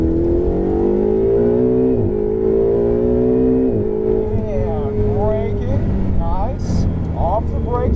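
A Ferrari 488 GTB accelerating at full throttle, its engine roaring loud and close with a steadily rising pitch that dips briefly at gear changes before climbing again.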